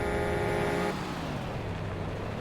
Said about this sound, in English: Now you see the truck running.